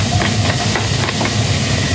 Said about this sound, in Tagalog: lutuin na natin itong patatas muna